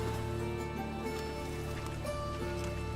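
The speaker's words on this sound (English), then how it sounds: "And it's raining again." Steady rain hiss in The Witcher 3, a continuous wash of falling drops running under a sustained tonal ambient bed, even and moderately loud throughout with no talking.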